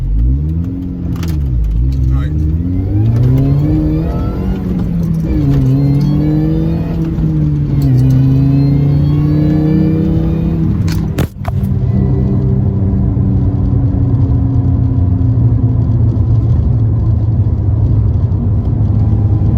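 An R53 Mini Cooper S engine revs hard from inside the cabin, pitch climbing through first gear in rising sweeps, with a brief word spoken near the start.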